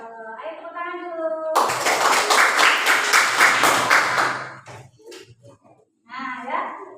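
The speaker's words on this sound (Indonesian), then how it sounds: "Ayo tepuk tangan dulu." A class of children clapping together in a short burst of lively, close applause lasting a few seconds, with an adult voice talking before and after.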